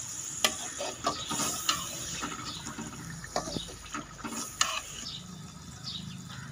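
Lentils and chickpeas being stirred into a pot of bajra haleem, a Hyderabadi dish. A spoon scrapes and clatters in irregular strokes, with faint wet sizzling underneath. Fairly quiet, no talking.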